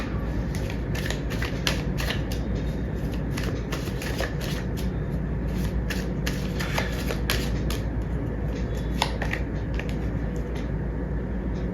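Tarot cards being shuffled, a dense run of papery riffles and flicks repeating steadily and close up, with no talk over it.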